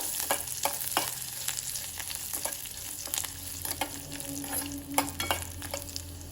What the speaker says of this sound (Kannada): ಈಗ ಇದಕ್ಕೆ ಕರಿಬೇವಿನ ಎಲೆಗಳನ್ನು ಹಾಕ್ಕೊಳ್ತಾ ಇದ್ದೇನೆ. ಇದನ್ನು ಚೆನ್ನಾಗಿ ಹುರ್ಕೊಳ್ಬೇಕು